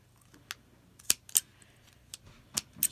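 Scissors snip through a paper dagger cut-out, giving several short, sharp separate snips spaced irregularly over a few seconds against a quiet background, with no talking.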